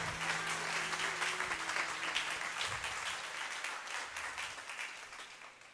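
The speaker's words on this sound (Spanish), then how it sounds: "¿Cuántos pueden darle un fuerte aplauso a Dios?" At a church service, a congregation claps in dense, steady applause offered to God, slowly tapering off, with faint organ or keyboard tones underneath.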